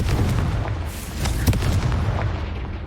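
Booming spell blasts from the Confringo fire curse in Hogwarts Legacy on PS5, a dense run of loud explosive bursts with a sharp crack near the middle, no talk over them.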